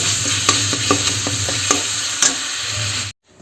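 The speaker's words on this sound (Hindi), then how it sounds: "तो चलो पहले खर मसाला अच्छा से भून लेखन" Whole spices roasting in a hot pan for a home-cooked potato curry, a constant loud sizzle broken by scattered clicks and scrapes of stirring, ending abruptly in near silence.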